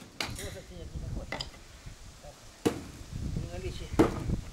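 Sledgehammer blows knock concrete formwork loose on a fence-building site, four sharp impacts spaced a second or so apart, with someone talking quietly throughout.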